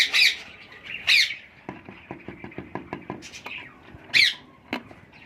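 A tame female parakeet, an Alexandrine or Indian ringneck in her second breeding, gives three loud, harsh squawks spaced about a second or more apart. A run of soft tapping and knocking fills the gaps between them.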